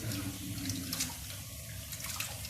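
Water runs and splashes steadily in a bowl or sink while mussels are being washed, a continuous close, moderately loud gush lasting throughout with no talk.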